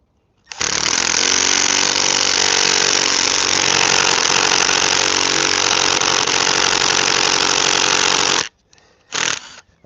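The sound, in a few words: impact drill boring into a log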